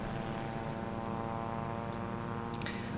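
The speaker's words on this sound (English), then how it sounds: "I believe that helicopter sound, like you can yeah, that one. That flying overhead is going to lead zombies in my direction" Helicopter in the video game Project Zomboid passing overhead, a steady droning hum of rotor and engine with a high whine above, continuous and fairly loud.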